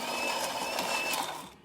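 A Gaggia espresso machine runs a test shot after a full service, giving a steady mechanical hum with a high whine on top. It holds constant for most of the clip and then cuts off near the end.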